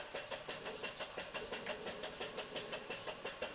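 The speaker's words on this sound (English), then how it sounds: "Just let the engine run." A PM Research 6CI steam engine fed by a vertical steam boiler, running as the boiler pressure drops after the fuel is shut off, with quick, even chuffing exhaust beats in a steady rhythm, close and fairly quiet.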